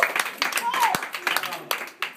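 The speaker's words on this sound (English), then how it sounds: "We got one clap for that." A short, ragged burst of clapping at a members rally, mixed with whoops and voices from the crowd, lasting about two seconds.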